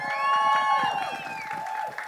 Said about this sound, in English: A big round of applause for Ronnie Screwwala and Meghna Gulzar.